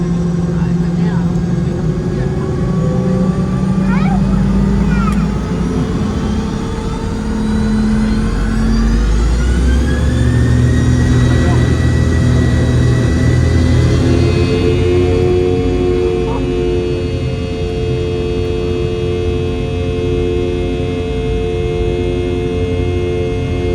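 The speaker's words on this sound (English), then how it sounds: "Listen to the spool of those Rolls-Royce engines as we depart from runway 30" The Rolls-Royce engines of a Boeing 717 spool up for takeoff from runway 30 at Hobart Airport, a loud, continuous rising whine and roar heard from inside the cabin, building in pitch over many seconds.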